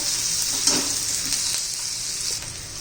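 Onion fries in oil until transparent for a methi bhaji, a close, continuous hissing sizzle with faint stirring taps, steady and loud throughout.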